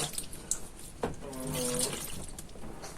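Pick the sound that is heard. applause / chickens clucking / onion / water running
water running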